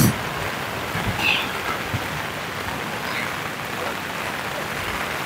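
Heavy rain pours in a constant hiss on a flooded road in southern Gorontalo, Sulawesi, with a brief faint voice-like sound early on and no clear speech.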